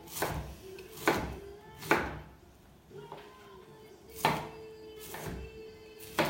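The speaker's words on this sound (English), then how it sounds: "you can just chop it up" A knife chops cauliflower on a cutting board for a Thai soup, with about eight sharp, close thunks at an uneven, unhurried pace.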